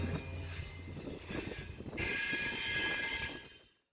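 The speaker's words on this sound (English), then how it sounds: "the train approached" A train rolls closer with rumbling wheels and clattering cars, the noise swelling into a loud, broadband roar with a high squeal of wheels on rail before cutting off abruptly.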